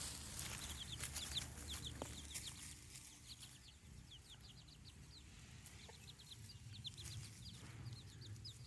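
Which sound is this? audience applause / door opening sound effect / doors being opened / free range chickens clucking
free range chickens clucking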